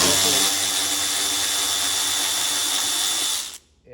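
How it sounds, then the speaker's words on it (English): An electric ratchet runs steadily for about three and a half seconds, removing the exterior door bolts on a BMW Z4 E85, with a loud, continuous whirring buzz that cuts off abruptly near the end. "If you're able to get an electric ratchet such as this, it doesn't have to be that brand, by the way."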